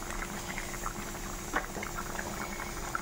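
A pot of dal boils steadily on the stove, a soft continuous bubbling with small pops and gurgles, close and fairly quiet, with no talking.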